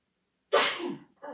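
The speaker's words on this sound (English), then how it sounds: "Excuse me, I'm going to sneeze." A single sharp, close human sneeze bursts out loudly after a moment of silence and trails off into a breathy exhale, followed by a brief breath or vocal sound.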